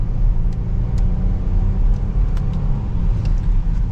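A 2023 Audi A8L 55 Quattro S-Line driving in dynamic mode, heard from inside as a steady low engine and road rumble with light ticks and clicks over it.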